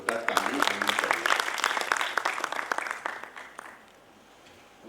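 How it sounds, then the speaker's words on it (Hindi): Audience applause at a national postgraduate dental convention for conservative dentistry and endodontics in Jammu, a dense crowd of clapping that holds steady, then thins and fades out over the last second or so. "मैं चाहता हूँ इनके लिए भी एक बार जोरदार ताली होनी चाहिए."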